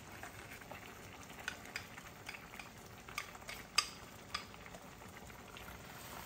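A rice flour mixture for turnip cake is stirred in a pot, a steady soft scraping and swishing with a few sharper spoon clicks against the side, fairly quiet throughout.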